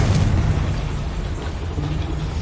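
Confringo fire spell exploding inside a goblin mine in Hogwarts Legacy, a loud sustained blast with deep rumbling that rolls on steadily for the whole stretch without a clear tail.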